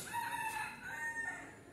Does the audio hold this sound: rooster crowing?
yes